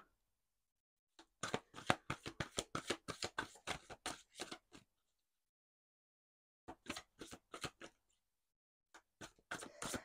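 Oracle cards for the heart chakra riffled and shuffled in quick bursts of crisp flicking, a long run followed by two shorter bursts separated by silence, close and clear with no talking.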